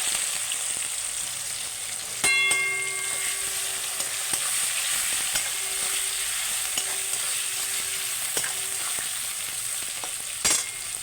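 Chopped onion fries in oil in a pan for Bengali-style handi mutton, with a steady close sizzle, occasional metallic stirring clinks and a few sharp scrapes against the pan.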